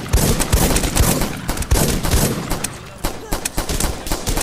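Heavy gunfire fills a Rust fight, with rapid automatic bursts and overlapping shots pounding loudly and almost continuously, and a voice speaks beneath the shooting.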